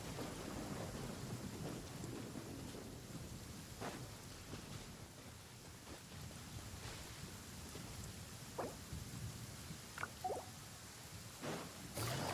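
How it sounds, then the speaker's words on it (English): Steady rain and rumbling thunder inside the video game Genshin Impact, a continuous wash of rainfall with several distant thunder cracks and rolls near the end, no talking. "It's raining again?"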